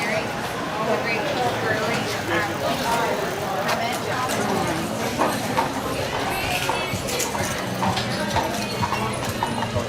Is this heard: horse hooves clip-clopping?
yes